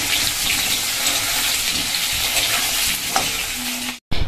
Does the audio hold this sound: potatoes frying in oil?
yes